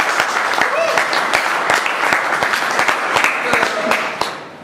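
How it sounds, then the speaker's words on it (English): A meeting audience gives a round of applause, dense clapping with sharp individual hand claps standing out near the listener, steady throughout and tapering off at the end. "So again, give him a big round of applause."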